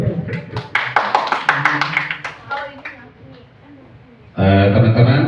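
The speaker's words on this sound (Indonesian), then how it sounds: "Tepuk tangan dulu." Audience applause at a community learning session in Indonesia; a voice speaks over scattered claps at first, then a loud, dense burst of clapping erupts near the end.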